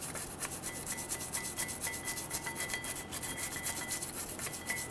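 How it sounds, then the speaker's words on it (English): A wire brush scrubs rust off a Toyota Tacoma front brake caliper where the pads sit, a rhythmic rasping back-and-forth scratching, fairly quiet and steady, with no voices. "Using a wire brush, we're going to clean the caliper where the pads are going to sit."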